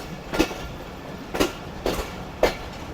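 Khyber Mail passenger train with economy and AC coaches running between Rahim Yar Khan and Karachi, heard as four evenly spaced rail-joint clacks over a steady rolling rumble, with no talk.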